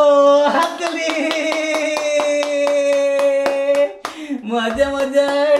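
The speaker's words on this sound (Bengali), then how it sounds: "এই তো হাততালি।" Babies' playtime with rhythmic hand clapping, steady regular claps under a sung, cheerful adult voice, with a brief pause near the end before the claps and singing resume.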